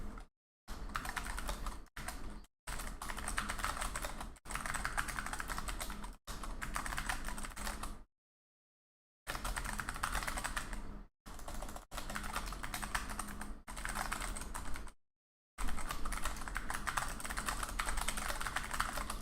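Continuous typing on a computer keyboard, with dense rapid clicking in long bursts broken by short pauses and one longer gap, close and fairly loud, with no voices.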